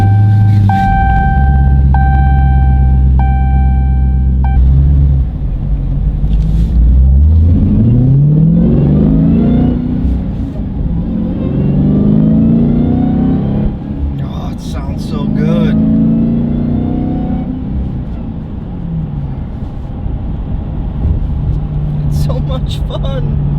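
A 2023 Dodge Challenger Hellcat Widebody Last Call Edition with a manual transmission revs loudly and drives off, its engine note rising and falling through several gear pulls, with a voice talking over it at times.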